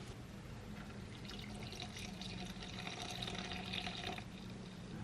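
Room-temperature water running into a bowl of bread flour for sourdough, a soft, steady hiss and trickle of pouring liquid, fairly faint and continuous throughout with no voices.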